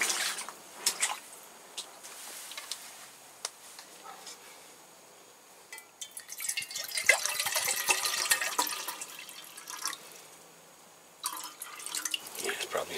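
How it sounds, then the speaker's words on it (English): Water runs and splashes into a cooking pot being filled for boiling, an uneven trickle that swells into a stronger pour midway, with a person talking over it. "Now it's ready for the pot. Gonna get some water."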